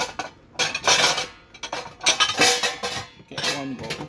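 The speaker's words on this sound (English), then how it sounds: "Get one bowl." A bowl is taken and handled in a home kitchen while cooking shrimp ramen, with repeated close clinks and clatters of dishes and utensils in bursts separated by short pauses.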